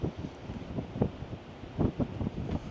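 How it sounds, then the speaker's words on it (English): Gusty wind buffeting an outdoor microphone, low rumbling bursts that swell and drop irregularly, loud and close throughout with no other clear sound. "it's quite windy"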